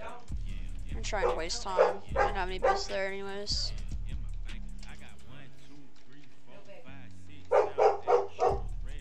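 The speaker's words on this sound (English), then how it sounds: "Sorry about the dog in the background." A dog barks and whines in short bursts in the room, first in a cluster of yaps and then again near the end, while someone talks over a video game.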